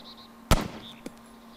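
A single sharp gunshot in ArmA 2 DayZ, close and loud with a short decaying tail, followed by a fainter crack a half-second later over a quiet hum.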